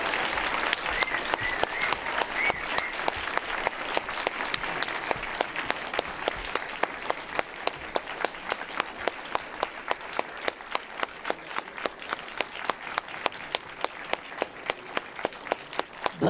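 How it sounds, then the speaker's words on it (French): Conference audience in Mâcon applauding loudly to welcome two guest speakers on stage, a dense sustained wash of many hands that settles into steady rhythmic clapping toward the end, with no talking over it. "Je vous demande, mesdames, messieurs, un tonnerre d'applaudissements pour accueillir Véronique Augereau et Philippe Pétieux."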